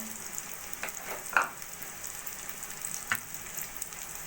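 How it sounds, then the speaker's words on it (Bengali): Sliced onion frying in oil in a pan until light golden, a steady close sizzle with a few soft stirring clicks and scrapes, no talking. "পেঁয়াজটা একটু হালকা সোনালি করে ভেজে নেব"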